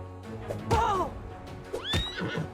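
Horse in the video game Pathfinder: Wrath of the Righteous gives two loud whinnies under attack during battle, separated by about a second, amid combat effects and faint voice.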